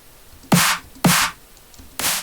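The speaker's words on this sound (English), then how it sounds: "That's the noise that we want." Three sharp snare drum noise bursts with the tonal part removed, evenly spaced about half a second apart, each a hissy, bright crack with a short decay and no clear pitch.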